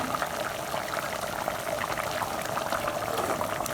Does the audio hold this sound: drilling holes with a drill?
no